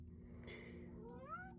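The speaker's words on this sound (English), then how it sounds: "I'm sorry if you hear my cat in the background, she's meowing." A pet cat meowing in the background, a single faint, rising drawn-out meow near the end over a quiet room.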